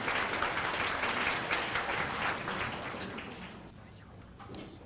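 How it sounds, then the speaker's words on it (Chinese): Warm applause fills a hall at a 2015 concert commemorating seventy years since victory in the war against Japan: a dense crowd clapping that holds strong, then gradually thins and fades toward the end. "让我们再一次用热烈的掌声"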